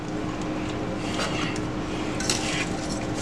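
Shrimp being tossed with bang bang sauce in a bowl for tacos, giving soft wet clinks and scraping stirs at a steady close-up level with no talk.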